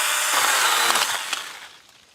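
A Stihl GTA 26 battery-powered garden pruner cuts through a tree limb outdoors, giving a steady, close, loud high-pitched buzz with a brief bite partway through before the motor winds down.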